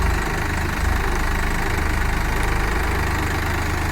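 A tractor engine, a Swaraj 744 XT or New Holland 3600, idles steadily and loudly up close with a low, even diesel rumble and faint rhythmic knock, no voices.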